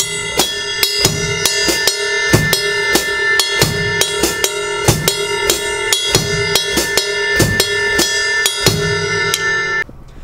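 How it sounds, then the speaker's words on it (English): Latin drum beat played on a kit, with steady bass drum thumps, crisp hi-hat and the bright ping of the ride cymbal bell in a repeating pattern, close and loud, no talking. "it kind of sounds like this with the bass drum, the hi-hat, and the bell of the ride cymbal"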